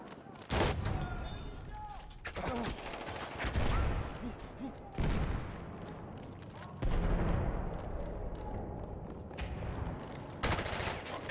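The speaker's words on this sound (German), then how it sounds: "Ich hab geschossen!" Gunshots in the Battlefield 1 multiplayer game, several heavy blasts and bursts of fire with long rumbling tails, spaced across the stretch amid battlefield noise and voices.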